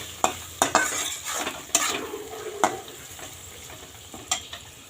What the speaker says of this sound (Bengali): এর মধ্যে চাল দিয়ে দিলাম গোবিন্দভোগ চাল চালটাও এর সঙ্গে ভেজে নেব